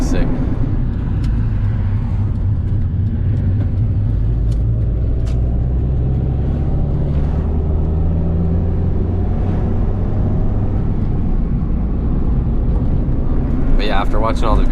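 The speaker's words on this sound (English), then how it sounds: "I'm actually in the car right now, obviously, on a relatively bumpy road" Car cabin noise while driving on a relatively bumpy road: a steady, loud low rumble of engine and tyres throughout, with small knocks and rattles scattered over it.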